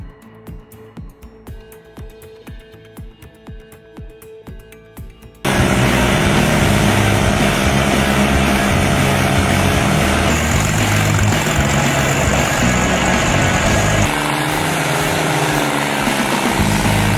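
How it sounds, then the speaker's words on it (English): A Carlton SP7015 stump grinder with a turbocharged diesel engine and 70-inch blade chews through a stump. A rhythmic pulsing is followed by a sudden, loud, sustained roar of engine and grinding. "the Carlton SP7015 grinder is an absolute monster. With its massive 70-inch blade and turbocharged diesel engine, it demolishes stumps effortlessly"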